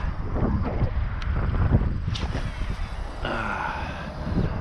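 Steady wind buffets the microphone outdoors while fishing, a continuous low rumble with gusts rising and falling throughout.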